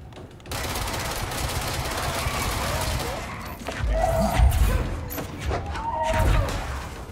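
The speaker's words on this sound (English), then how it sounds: "There's a machine gun over Betty." Rapid bursts of machine gun fire rattle in the video game Control, loud and close, with heavy thuds and impacts breaking through a dense stream of gunfire.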